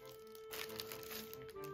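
A plastic bag crinkles and rustles up close as an item is unpacked from a potions-themed box, a short burst of soft crackling over a quiet room hum.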